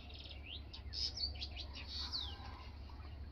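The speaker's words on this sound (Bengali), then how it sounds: "এইখানে বসে কিচিরমিচির করে ডাকছে" Two birds perch and chirp at dawn in a rural Bangladeshi village, a lively run of high tweets and short rising and falling calls, fairly close yet soft, over a constant low background hum.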